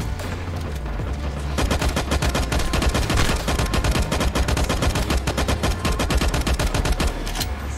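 Rapid automatic gunfire in the LifeAfter shooter game, a loud, dense stream of shots rattling continuously for several seconds with a low rumble underneath and no talking.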